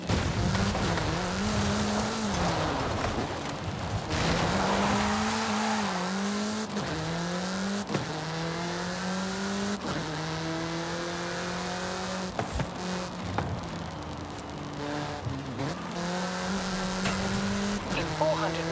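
A car driving fast in Forza Horizon 5, its engine revving and shifting through gears with rising and falling pitch, tires squealing at points, loud and continuous with some talk mixed in.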